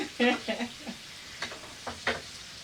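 A New York strip steak fries in a pan with rosemary while being basted, giving a soft steady sizzle broken by short bursts of louder spattering.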